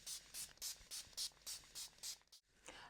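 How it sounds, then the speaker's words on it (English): Eight quick hissing bursts of Makeup Revolution Oil Control Setting Spray onto a face in a steady rhythm, close and fairly loud, followed by a brief pause and one more short spritz. "I'm going to set using the Makeup Revolution Oil Control Setting Spray."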